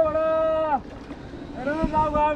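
A rowboat crosses the Brahmaputra river, with a steady low wash of water and boat noise running under a voice.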